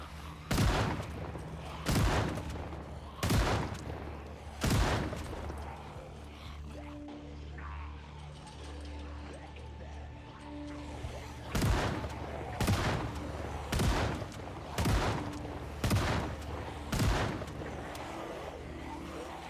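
Shotgun fire in the zombie survival game Project Zomboid, with loud single blasts at spaced intervals, a pause, and then another run of evenly spaced shots over a low background hum.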